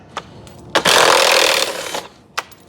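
A power tool spins out a 10mm bolt holding the radiator fan assembly on a Chevy Traverse, one steady burst of about a second, loud and close, between short clanks of handling.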